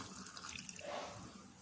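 Water is poured into a mixer jar over small onions and masala for grinding a mackerel curry, a short, close splash and trickle lasting under two seconds.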